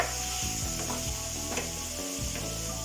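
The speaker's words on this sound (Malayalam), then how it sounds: "ഒന്ന് ഇളക്കാം." Tomato chicken stirred in a pan, giving a continuous close sizzle with rhythmic scraping and stirring strokes throughout, no speech.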